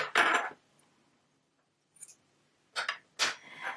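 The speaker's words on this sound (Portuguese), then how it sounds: "vou cortar o fio" Scissors snipping knitting yarn after finishing a blue square, a few short, crisp metallic snips close by, separated by quiet pauses.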